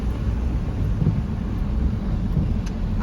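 Thunder from a lightning strike during a drive home rolls as a continuous deep rumble, loud and steady for the whole stretch, with no voices.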